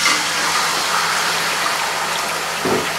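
Chicken pieces with ginger-garlic paste and salt frying over high flame in hot oil for degi chicken korma, giving a loud, steady broadband sizzle that runs without pause, with a brief low thump near the end.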